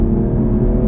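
A 2020 Audi S4 with a turbo V6 under full-throttle acceleration, a loud, dense engine roar heard from inside the car, brief and continuous.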